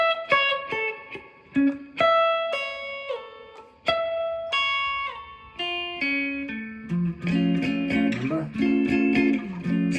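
A clean guitar plays a quick diminished lick of plucked single notes climbing and falling, then rings into a fuller, sustained chordal passage at the end.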